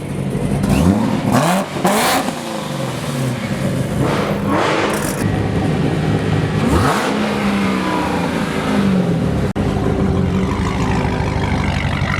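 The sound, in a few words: sports car engine revving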